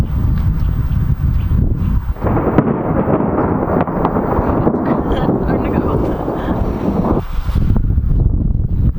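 A low, rolling rumble of distant thunder swells and lingers under heavy wind buffeting the microphone, outdoors on horseback in the Slovenian countryside.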